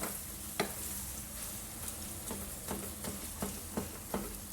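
Minced meat fries in a pan for menemen, a constant sizzle broken by repeated sharp scrapes and taps of a spoon stirring at irregular intervals, close and clear with no talking.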